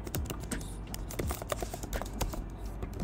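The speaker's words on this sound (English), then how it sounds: "just go to Google and just type" Rapid typing on a computer keyboard, a steady stream of close, crisp key clicks with no voices.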